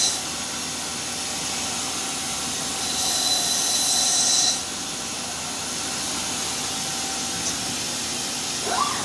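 A Mazak CNC machine cuts an oil groove in a bushing, giving a steady hissing, whooshing roar of coolant and cutting that swells briefly midway, with no voices.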